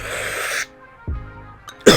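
A man imitates a coughing fit with his voice: a couple of harsh, breathy bursts close up, the first long and noisy, then a brief pause and a sharper burst at the end.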